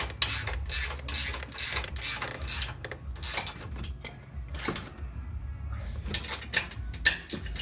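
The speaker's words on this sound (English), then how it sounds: "I'll go ahead and use my 17 millimeter wrench up here on my top nut." A 17 mm ratchet wrench tightens the top nut of a front leveling kit on a 2017 Ram 1500, giving close, crisp clicking bursts in quick repeated strokes with brief pauses.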